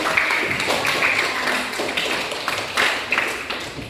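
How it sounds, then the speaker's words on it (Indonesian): Students in a classroom clap in an uneven patter, with individual hand claps standing out and the sound swelling and fading over a few seconds. "Tepuk tangan."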